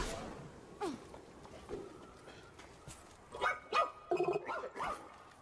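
A dog barks in the sci-fi video game ReCore, several short, close barks and yips that come in a quick burst of four or five, with a few fainter whimpers earlier amid quiet game ambience.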